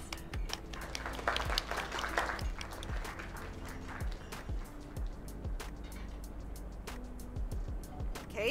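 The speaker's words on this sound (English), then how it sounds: "Another round of applause." A few people clap in scattered, uneven strokes at a small gathering over drinks in a new bar, the claps fairly faint over a steady low hum of room noise.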